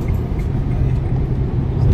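A car drives steadily along a road with a continuous low engine and road rumble, loud and close from inside the vehicle, with no talk.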